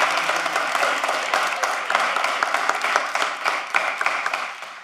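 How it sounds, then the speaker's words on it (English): A crowd claps steadily in dense, continuous applause for several seconds at a commission meeting, fading slightly at the end. "Let's do a round of applause."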